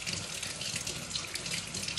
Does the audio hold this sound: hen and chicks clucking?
no